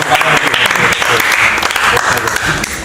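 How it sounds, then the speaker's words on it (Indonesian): Audience applause during a live-streamed show with a stand-up comedian, a short, loud, dense burst of clapping with voices mixed in. "Tepuk tangan dong, bangga dong, bangga."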